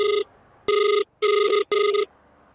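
A phone rings out while a call is placed to a customer from a delivery driver's vehicle, loud electronic ring bursts repeating in a steady on-off pattern.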